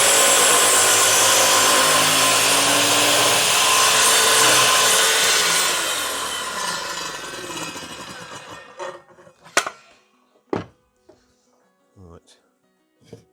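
A circular saw cross-cuts wood on a homemade mitre jig built from scrap, whining loudly for several seconds before winding down, followed by a few sharp knocks and clatters of wood in the quiet.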